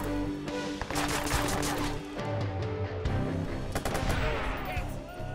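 Gunfire in the video game Watch Dogs: sharp, loud shots and bursts crack over dense, busy game noise and a steady low hum, repeating in quick succession through the scene.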